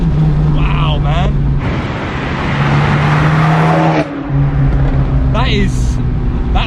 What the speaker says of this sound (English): That third gear pull is really strong as well. Second and third gear.